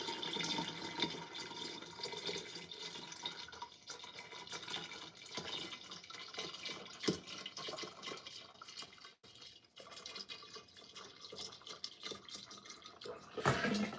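Diluted punch mixture splashes and gurgles steadily as it is poured into a container of water, a continuous moderate pouring sound lasting the whole stretch with small drips at the end.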